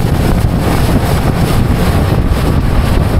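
A small tour boat cruises past islands through the mangroves of Kilim Geoforest Park in Langkawi, carrying five or six passengers, its engine drone merging with steady wind buffeting and water rush, loud and continuous.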